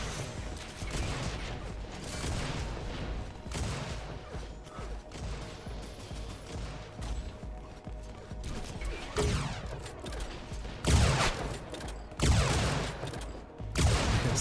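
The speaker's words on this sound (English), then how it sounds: "Sniper shots not landing." Gunfire in the arena shooter Unreal Tournament during a competitive league match, with a dense run of overlapping shots and mechanical clatter and several louder sharp blasts near the end; no talk.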